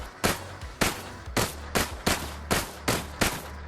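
Gunshots ring out in the VR shooting game Gun World: eight sharp, loud reports fire in a steady semi-automatic rhythm, each about half a second apart with a short booming tail.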